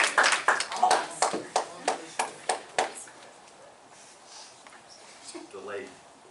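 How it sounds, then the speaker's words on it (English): Audience clapping after a juggling trick at a sweet sixteen magic show, a loose series of about ten separate claps in the first three seconds that fades to quiet room noise, with a faint voice near the end. "Delayed clap."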